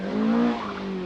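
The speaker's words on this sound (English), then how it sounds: "STIG BLOMQVIST Talbot Sunbeam Lotus arrives on the scene to be slowed by the marshals." A Talbot Sunbeam Lotus rally car arrives on a 1982 Scottish Rally stage and slows, its engine note falling over about a second, fairly close and unaccompanied by voices.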